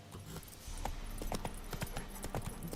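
Horse hooves clop steadily in a quiet, irregular rhythm from The Witcher 3: Wild Hunt video game, faint and low in the mix.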